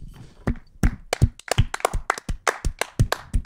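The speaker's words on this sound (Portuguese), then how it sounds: "Olha, um aplauso." A handful of people clap in a small room, sharp distinct hand claps at an irregular, quickening rhythm, close and alone with no talk over them.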